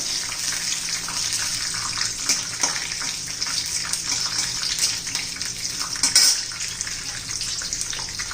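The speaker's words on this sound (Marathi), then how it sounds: "आपलं तेल आता गरम झालेलं आहे थोडे शेंगदाणे घालून घेऊ" Peanuts fry in hot oil with a steady, close, hissing sizzle that crackles without pause throughout, with no voices.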